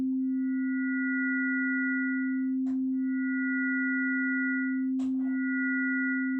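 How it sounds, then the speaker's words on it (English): Ring modulation on a Korg Opsix synthesizer gives a steady, sustained tone. Upper sideband partials drop out and return, with two brief clicks where the sound shifts. The tone plays alone, with no talk. "now let's listen to what the ring modulation is doing"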